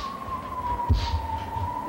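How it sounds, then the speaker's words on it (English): An emergency vehicle siren passes outside, heard faintly from indoors as a thin, steady wail that slowly drops in pitch, with a soft thump partway through. "Let's wait for that siren."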